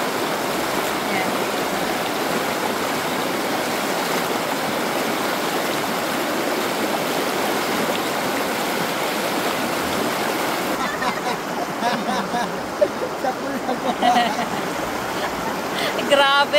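The Pugo river in La Union flows in a steady, loud, close rush of water throughout, with some faint shifts near the end and no clear talk.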